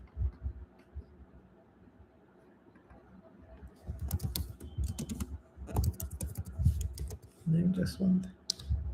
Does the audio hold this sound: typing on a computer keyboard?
yes